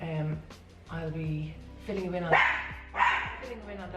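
A small teacup-size dog yaps sharply two or three times in quick succession, close by, while people keep chatting over it.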